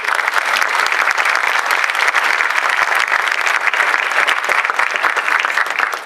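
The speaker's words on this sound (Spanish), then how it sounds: "recibamos con un aplauso a la doctora" Audience applause welcoming a doctor to an astronomy lecture in Medellín, presented with the Sociedad Astronómica de Antioquia, Parque Explora and the Planetario: dense, steady clapping from a large crowd, loud and unbroken for about six seconds, with no voices.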